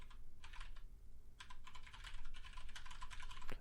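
Rapid typing on a computer keyboard, close and fairly quiet, in short bursts of clicking keystrokes with a brief pause before a longer run.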